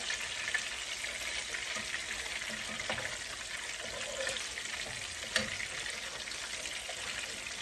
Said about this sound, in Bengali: এখানে একটু জিরা ফোড়নি দিয়ে দিছি